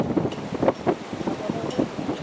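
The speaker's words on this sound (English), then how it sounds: "It's the wind, it's the wind that's the killer here." Strong wind buffets a microphone outdoors by the sea in freezing weather, a steady rough rumble that runs under a man's speech.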